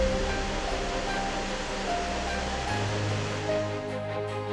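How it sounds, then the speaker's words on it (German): Waterfalls rushing down a gorge at Allerheiligen in the Black Forest, a steady roar of falling water with music playing faintly over it. "und schauen die Schlucht hinunter zu den Wasserfällen."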